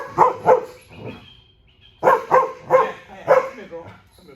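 A happy dog barks and yips in short bursts, a pair of quick barks, a pause, then a run of four or five close, loud barks and yips.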